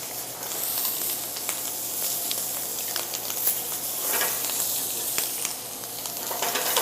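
Chicken and soft pineapple sizzle and fry steadily in a hot, smoking frying pan, a continuous close crackle with occasional stirring scrapes, no talking.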